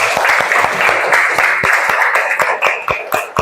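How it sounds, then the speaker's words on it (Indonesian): Classroom applause from children at an elementary school, a loud, steady burst of clapping with sharp individual claps standing out near the end. "Tepuk tangan dulu untuk semua."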